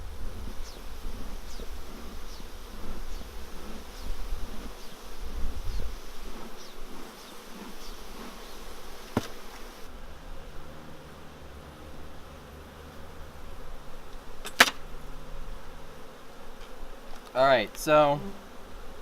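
Honeybees at a queenless hive hum in a steady, soft buzz with occasional louder passes close by, accompanied by handling clicks and a brief spoken phrase.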